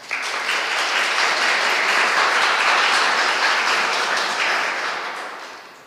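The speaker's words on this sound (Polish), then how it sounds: "Wielkie brawa." Audience applause fills the knights' hall of the castle in Sucha at a classical concert, a steady dense clapping that holds for several seconds and then fades.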